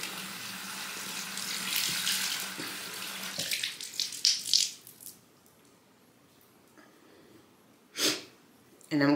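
Tap water running briefly into a sink to wet a thick disposable face towel, a steady hiss at first that drops away, followed by quieter handling noises and a few short splashy bursts near the end.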